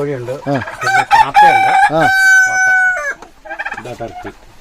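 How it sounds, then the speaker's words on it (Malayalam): A rooster crows loudly nearby on a poultry farm, its long call rising and holding before breaking off, with clucking hens, black chickens, turkeys and other fowl chattering around it. "പശ്ചാത്തലത്തിൽ കോഴി കൂവുന്നുണ്ട്"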